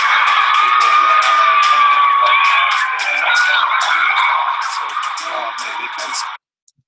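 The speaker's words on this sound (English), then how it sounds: "you kind of get like the crowd cheering after they score the touchdown" A large stadium crowd cheers and shouts loudly after a football touchdown, a dense sustained roar with whoops and yells that eases slightly toward the end before cutting off.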